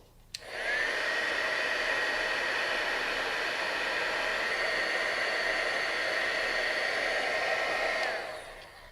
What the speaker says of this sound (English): I'm just going to go ahead and activate it with a little heat tool